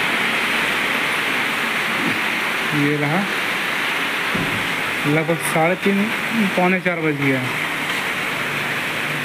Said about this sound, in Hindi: पानी तो अच्छा हैवी हो रहा पानी